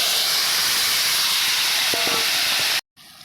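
Boiled bottle gourd goes into a hot pan tempered with radhuni and dried red chilli, giving a loud, steady steam-like sizzle and hiss. The sizzle continues unbroken for nearly three seconds, then cuts off suddenly into quiet.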